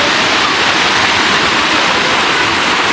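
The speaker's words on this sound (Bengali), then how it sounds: "এই জায়গা থেকে ঝর্ণাটা কি সুন্দর লাগতেছে" A waterfall viewed from below at a picnic spot roars as a steady, loud, dense wash of falling water, continuous and unbroken throughout.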